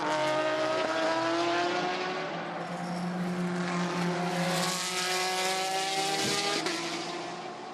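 A Porsche race car under throttle at the WEC 6 Hours of Spa-Francorchamps, trailing a Ferrari: a loud, sustained engine drone with rising and shifting harmonic tones, close by, without speech.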